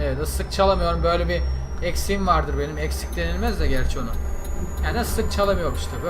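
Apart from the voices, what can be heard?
None of the usual background noises is heard.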